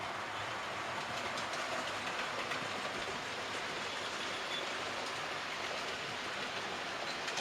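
A model railway locomotive hauls a long train on a loft layout, giving a steady, continuous rolling rumble with faint rhythmic clicking of wheels over track joints, alone and unbroken.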